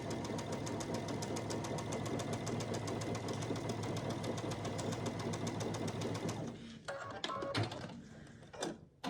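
A sewing machine stitches quilt pieces right sides together with a quarter-inch seam, a rapid even run of needle strokes that stops after about six seconds, leaving a few handling clicks and rustles.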